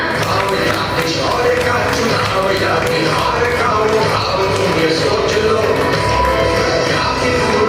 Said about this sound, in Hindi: हमारे जीएम सर के लिए जोरदार तालियां